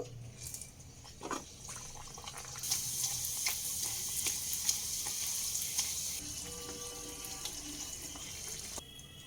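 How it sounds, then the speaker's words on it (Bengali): Pea-stuffed kachori fries in hot white oil, giving a continuous soft bubbling hiss at moderate, fairly low loudness, with no one speaking. "তেল গরম হয়ে এসছে আমি একটা কচুরি ছেড়ে দেবো"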